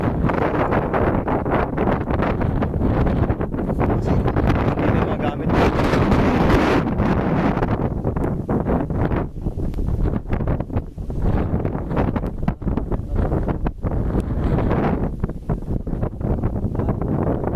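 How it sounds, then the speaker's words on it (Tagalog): Strong wind on Mount Marami buffets the microphone continuously, a loud roaring rush that swells and dips without letup. "hangin."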